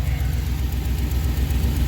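A Chevy Express van engine idles smoothly after repair, a low, even, steady rumble close by with no revving and no voices.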